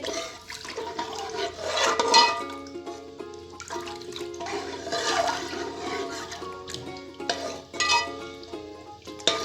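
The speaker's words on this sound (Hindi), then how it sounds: "चम्मच को चलाएंगे।" A spoon stirs milk and vermicelli in a pot while making sweet sawaiyan, producing irregular scraping and liquid swishing at close range, rising and falling in loudness, with faint tonal background sound underneath.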